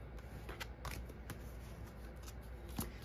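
Tarot cards being shuffled by hand, a series of quiet, close riffling and flicking card sounds in irregular bursts over a faint hum, with no talking.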